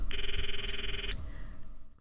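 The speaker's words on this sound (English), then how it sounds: "I stop the video and call Mayuri's phone from my address book." Phone in Steins;Gate dialing a call, a steady electronic tone held for about a second, then cutting off into a faint quieter tone over low background hum.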